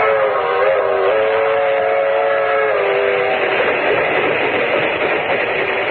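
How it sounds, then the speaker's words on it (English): A train rumbles steadily along the rails with a continuous droning hum in a 1946 radio drama, sounding close and constant, with no voices. "Clicking off the miles on the humming rails."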